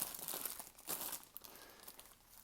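A 9 by 12 plastic bag crinkles steadily up close as jeans are packed into it for shipping, a continuous rustling with a few sharper crackles.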